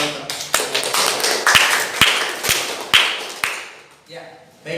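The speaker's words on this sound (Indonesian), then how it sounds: "kita berikan tepuk tangan dulu" Classroom clapping for students after a dialogue practice: a short round of sharp, fairly close hand claps, sparse and uneven, fading out toward the end with a voice audible beneath.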